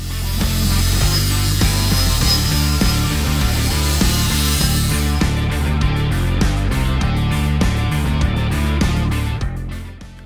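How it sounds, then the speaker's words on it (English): Factory Jeep JL bump stop housing being cut and ground square during a lift install, a loud continuous metal-cutting whine that stays harsh and steady with no talk. "They are laid out, cut, and then finished with a grinder to get them square."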